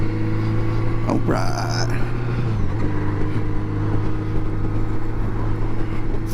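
A 1980 Honda Goldwing motorcycle rides along with a steady low engine drone and road noise; the note shifts briefly partway through, accompanied by a short burst of higher sound, and a voice speaks over it.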